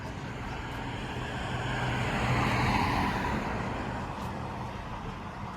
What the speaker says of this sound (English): Cars are coming back and forth